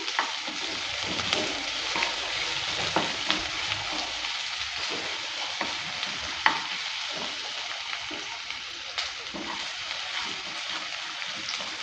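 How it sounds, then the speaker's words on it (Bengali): Chopped onion and garlic fry in a pan with a steady broadband sizzle, punctuated by scraping stirs throughout, close and continuous with no talk. "রসুনের কোয়াটাকেও কুচি কুচি করে কেটে নিয়েছে দেওয়ার পর ভালো করে নেড়ে চেড়ে নিচ্ছে"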